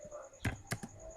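A few quiet computer keyboard keystrokes, three distinct taps in an irregular rhythm, over a steady low hum while renaming a spreadsheet.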